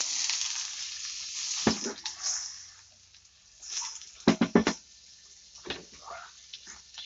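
Butter melts in a heated frying pan for a sautéed vegetable salad. A soft, steady sizzle hisses close by, broken by a few sharp clinks and scrapes of a utensil.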